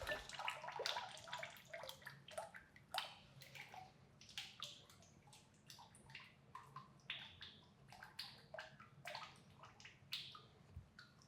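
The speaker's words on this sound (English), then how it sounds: "I take my slip and I pour it in through a strainer to catch any chunks that I might have missed." Liquid clay slip pouring through a strainer in a ceramics studio, a steady splashing, dripping stream with many small irregular spatters, close and moderately quiet, with no voices.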